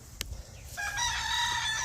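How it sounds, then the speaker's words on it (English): A rooster crows once in a bonsai garden, a long harmonic cock-a-doodle-doo rising after a brief click, fairly close over quiet outdoor background. "Getting closer to the roosters now"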